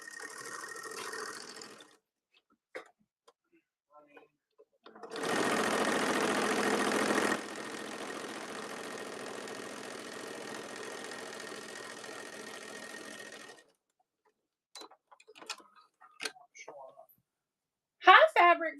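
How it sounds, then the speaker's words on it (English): A sewing machine stitching X patterns onto a fabric bowl cozy, a steady mechanical whir running alone for several seconds, louder at first, then settling into a quieter continuous hum before stopping. "while I sew these X's"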